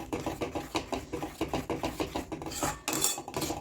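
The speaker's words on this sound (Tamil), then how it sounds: "கொஞ்சம் கைவிடாமல் அப்படி கிளறிக்கிட்டே இருக்கணும்." Jackfruit halwa is stirred in a kadai, a close, rhythmic scrape and knock of the spoon against the pan repeating quickly, with a brighter scrape near the end.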